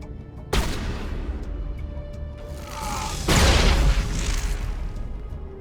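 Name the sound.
grenade explosion in video game Mass Effect Legendary Edition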